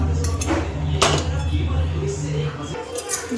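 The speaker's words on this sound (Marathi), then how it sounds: "कढाई ठेवते गॅसवरती" A kadhai wok is set down on a gas stove with a few close, ringing metal clanks and knocks over a low steady hum.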